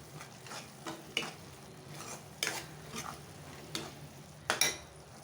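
Chili powder fries in a pan for macaroni under a quiet, steady sizzle, broken by several distinct spoon scrapes and metallic clinks against the pan at irregular intervals.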